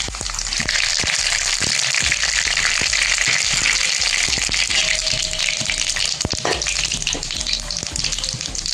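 Water poured into a hot pan of tangy Maharashtrian dal with turmeric and moringa makes a continuous loud gushing sizzle, dotted with small pops and clicks throughout.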